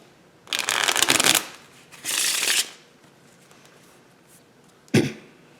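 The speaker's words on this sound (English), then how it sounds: "now you're just going to have your spectator shuffle these 2 piles" Two piles of playing cards riffle-shuffled in two close bursts of crisp fluttering, each about a second long, then a single soft tap as the deck squares up; no talking.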